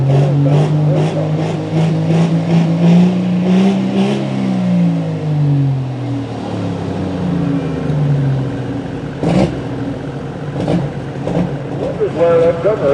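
A pulling tractor's engine revs up and down at a truck and tractor pull in Shippensburg, PA, the pitch rising and falling loudly nearby while people talk over it.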